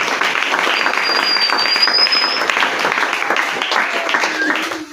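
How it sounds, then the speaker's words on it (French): A church congregation applauds with dense, steady clapping for about five seconds, loud and close, with some voices mixed into the applause. "Est-ce qu'on peut acclamer royalement la parole de Dieu?"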